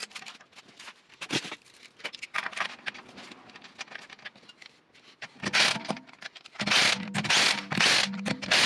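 A torque wrench clicks and ratchets while tightening a wheel on a VW Golf 6 1.4 16V, giving irregular metallic clatters and taps, then louder bursts of rattling ratchet sounds toward the end.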